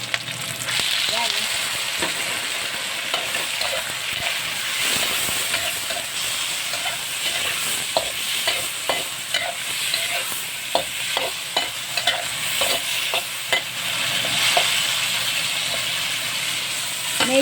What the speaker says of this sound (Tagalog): Igisa muna natin guys po.